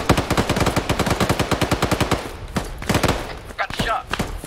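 Rapid automatic gunfire in Arma 3, a loud, sustained burst of evenly spaced shots followed by a few scattered single shots and sharper cracks.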